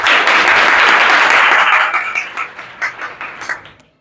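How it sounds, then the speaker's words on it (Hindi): Lecture audience in a personality development session on education claps loudly and densely at first, then the applause thins into scattered individual claps and fades out. "जिसको ऐसा लगता है वो तालियां बजाएगा ज़रा."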